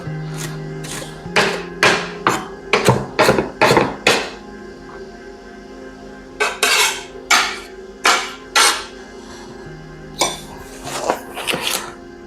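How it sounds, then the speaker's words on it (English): A knife chops pre-washed parsley very small on a cutting board for a beetroot and quinoa salad, giving close, sharp thuds in quick bursts of several strokes separated by short pauses. "we're gonna just chop it very small"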